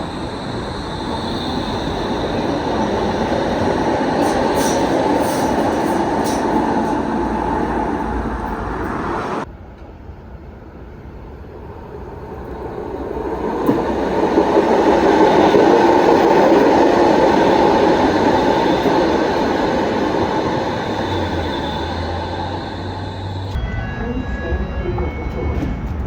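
A Toronto Line 5 Eglinton Crosstown light rail train rumbles along steadily with a broad rushing roar, briefly quieting as it stops or slows, then picking up again; a short tone sounds near the end.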